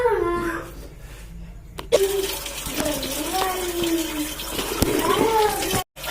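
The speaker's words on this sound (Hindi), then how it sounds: "मैं बर्तन साफ करना" Dishes being washed under a running tap at home, with broadband water rush and intermittent clinks of utensils throughout, close and moderately loud, and a brief pause near the end.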